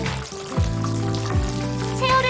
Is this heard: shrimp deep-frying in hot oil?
yes